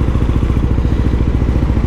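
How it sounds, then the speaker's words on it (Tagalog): Motorcycle engine warming up before a ride, a steady, loud, close idle with a regular low pulsing thump and light mechanical clatter throughout, no voices. "So painit muna tayo ng makina."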